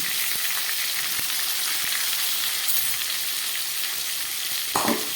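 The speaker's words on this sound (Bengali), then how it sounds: "নুন হলুদ ছাড়া আলু আর পটলগুলো খুব ভালো করে ভেজে নিলাম।" Potatoes and pointed gourd frying in oil in a pan, a steady dense sizzle throughout with a few soft stirring taps, close and fairly loud, no talking.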